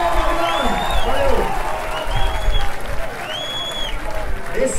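A crowd at a live rock show at Hangar 110 applauds a band member, loud clapping mixed with shouts, whistles and voices calling out over the noisy room.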